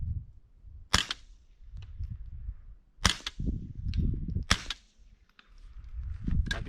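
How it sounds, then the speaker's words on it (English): Suppressed .22 rifle firing subsonic ammunition, giving three sharp, quiet cracks with the action cycling between them, close by and with no talk. "All I hear is the gun cycling."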